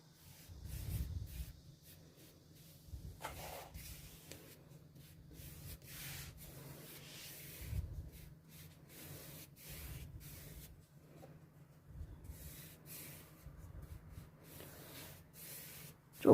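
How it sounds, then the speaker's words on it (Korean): Thinned raw umber acrylic paint is scrubbed onto a discarded wooden shelf with a paintbrush, making soft, repeated rubbing and swishing strokes that come in irregular bursts, close and fairly quiet, with no talking. "조금씩 묻혀서 좀 많이 문질러서 작업하는 방법으로 칠해주세요."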